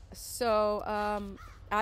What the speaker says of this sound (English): Oh, there go the crows.